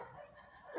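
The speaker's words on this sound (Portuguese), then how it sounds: "o barulho dos cães" Dogs barking in the background of a home where crochet work is underway, a brief burst of yapping that swells loudly toward the end of a short stretch of quieter room sound.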